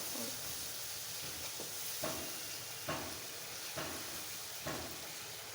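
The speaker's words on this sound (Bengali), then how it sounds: "আদা রসুন পেস্ট দিয়ে দেব আদা চা চামচ জিরা পেস্ট দিয়ে মশলাটাকে ভালোভাবে কষিয়ে নেব" Masala with ginger-garlic paste and cumin paste sizzling in a pan for a Bengali fish curry: a steady close hiss broken by about five evenly spaced spatula scrapes, with no voices.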